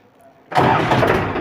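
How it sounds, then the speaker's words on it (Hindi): A tractor engine cranks and catches after a half-second of quiet, then settles into a loud, close, rough running rumble. "तो हम अभी ट्रैक्टर को स्टार्ट कर लेते हैं।"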